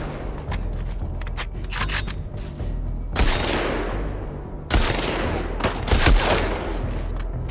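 Gunfire in a video game rings out as rapid bursts of close shots, with two longer booming volleys that trail off, over a steady low hum.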